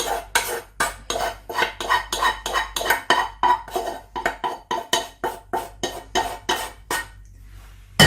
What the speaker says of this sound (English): So let's add, mix all of this, put it in here.